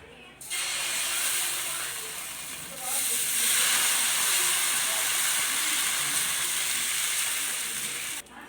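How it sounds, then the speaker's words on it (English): Dosa batter poured onto a heated iron tawa sizzles in a loud, steady hiss that swells after a few seconds and holds until an abrupt stop, with no talking over it. "Now my tawa is heated. I am going to put the dosa batter."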